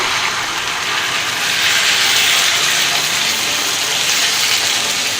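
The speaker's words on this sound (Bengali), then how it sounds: "দেড় কাপের মতো পানি দিয়ে দিলাম" About one and a half cups of water are poured into a hot cooking pan of fried jackfruit curry, giving a loud, steady rushing hiss of steam and gushing liquid that holds evenly throughout with no voices.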